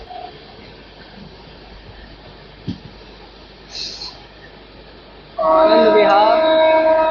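An express passenger train, the 12566 Bihar Sampark Kranti Express, roars past loudly at high speed over the last two seconds, after a stretch of quieter ambient noise and a brief spoken announcement.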